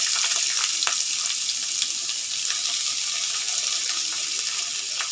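Onions fry in a pan for a dried fish curry, giving a loud, dense sizzle with a steady hiss and scattered crackles that carries on unbroken, with no voices.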